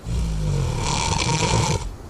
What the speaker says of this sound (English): Hear those snores?